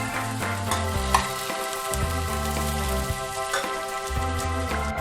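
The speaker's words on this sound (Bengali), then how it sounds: "এবার আলুটাকেও আমি ভালো করে একটু ফ্রাই করে নিচ্ছি।" Potato pieces fry in mustard oil with a constant bubbling sizzle and crackle, fairly loud and close, while steady musical tones play in the background.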